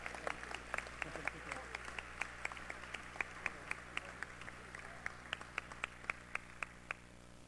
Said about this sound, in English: let's give a round of applause, a standing ovation, should I say, to the Honorable Yvette McGee Brown